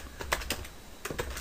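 Someone types a title on a computer keyboard in a quick run of close, soft key clicks with a short pause partway through. No one talks.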